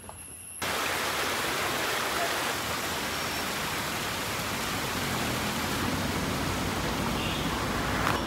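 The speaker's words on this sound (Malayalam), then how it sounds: "ഇതാണ് നമ്മൾ പറഞ്ഞ വെള്ളച്ചാട്ടം." A waterfall in the hills of Munnar pours in a steady, dense roar of rushing water that starts abruptly after a brief quiet moment and holds at full strength throughout, close and loud.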